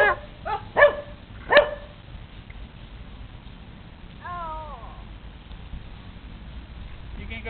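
A puppy gives a few sharp barks close by, followed by a short whimper, with quiet background noise.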